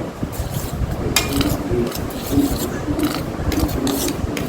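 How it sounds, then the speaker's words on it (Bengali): Dry semolina being mixed in a bowl for palm cupcakes, a close, continuous gritty rasping and rubbing with light clinks of spoon against the bowl. "সুজিটা নেওয়ার পর একটু আমি মিশিয়ে নেব"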